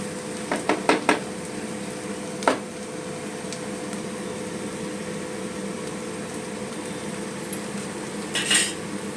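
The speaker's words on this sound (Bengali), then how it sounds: "ভালো করে ভাজবো যাতে আদা, পেঁয়াজ, রসুন এর কাঁচা গন্ধটা সম্পূর্ণ বেরিয়ে যায়" Onion, ginger and garlic frying in a pan, heard as a low steady sizzle under sharp metallic clinks of a spoon against the pan, a quick cluster early on and a few scattered strikes later.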